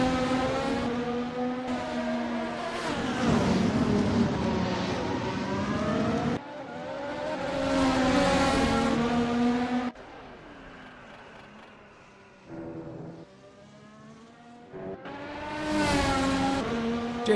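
Race car engines in a video game at Interlagos, including the number 6 Porsche Penske, drone loudly and continuously with rising and falling pitch as cars rev and pass, dipping quieter partway through before surging back.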